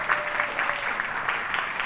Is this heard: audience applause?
yes